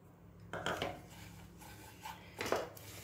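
Food being mixed in a pan on a lit gas stove, with a few scraping and clattering strokes of a utensil against the pan, moderately close, no talking.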